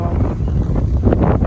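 Steady wind blowing across the microphone on a windy hilltop along a lane by a power line, a loud continuous low rumble with gusty swells throughout and no talking.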